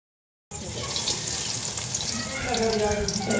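Onions hit hot oil in a pan and burst into a loud, crackling sizzle that starts abruptly and continues steadily, with a faint voice murmuring underneath.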